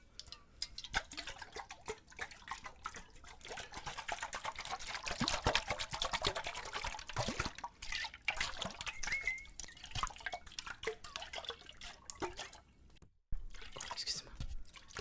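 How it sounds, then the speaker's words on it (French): Water trickles and drips steadily from a container whose lid was left loosely closed, a close, soft, continuous dribbling with scattered droplet ticks and faint whispery sounds mixed in. "J'ai de l'eau qui coule, vu que je l'ai mal fermée."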